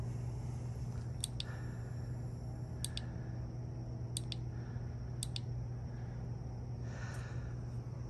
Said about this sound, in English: And then you have several different modes by clicking the button.